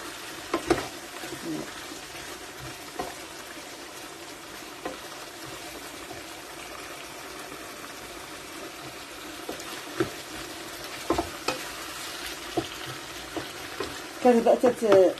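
Vegetables for a ratatouille filling cook in a pan, a low steady sizzle broken by occasional scrapes and taps of stirring, growing busier with clustered knocks toward the end; no clear talking.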